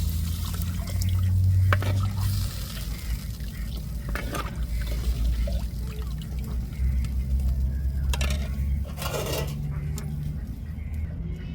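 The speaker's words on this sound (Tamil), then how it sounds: "இப்போ புளி தண்ணி சேர்த்துக்கிடுவோம்." Tamarind water is poured into a pot of stingray fish curry, a soft liquid trickling and splashing with a few sharper drips, fairly quiet and close, running for several seconds with background kitchen noise.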